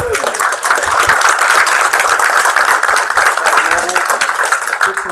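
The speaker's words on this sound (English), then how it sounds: "You mind applause, guys?" Loud, continuous applause fills the room after a student game studio's pitch, a dense crackle of many hands clapping throughout, with some crowd voices underneath.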